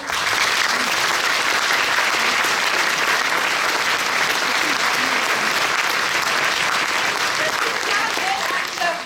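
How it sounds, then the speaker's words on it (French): A crowd claps steadily and continuously, dense broadband applause filling the room at an even level throughout. "on peut les applaudir."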